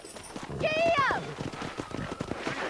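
A horse gallops with quick, rhythmic hoofbeats in the Red Dead Redemption video game, accompanied by a short neigh and a voice calling out over the running.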